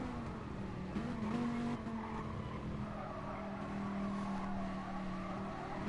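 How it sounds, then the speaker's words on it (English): Racing-game car on a hot qualifying lap at Laguna Seca, its engine droning steadily with rising and falling pitch through the gears, plus some tire squeal, loud and continuous throughout. "Of course it's Lewis, as Ugot begins his first hot lap, representing Reaper Raptors at Laguna Seca"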